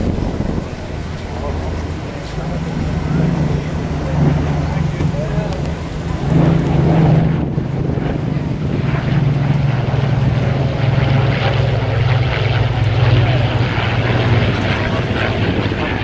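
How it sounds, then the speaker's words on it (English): Propeller-driven Yakovlev Yak aircraft, including a Yak-11 trainer, fly past at the Flying Legends air show at Duxford, a steady loud engine drone building and holding with wind noise and a crowd murmur beneath. "This is a trainer, the Yak 11. And here come the Yaks."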